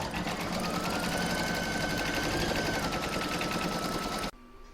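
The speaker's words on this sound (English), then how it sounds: "I'm now going to pop this back in my machine and stitch round number 5" An embroidery sewing machine stitches the ears and whites of the eyes on an Easter bunny design, giving a fast, steady, loud mechanical whirr that runs continuously and then cuts off abruptly near the end.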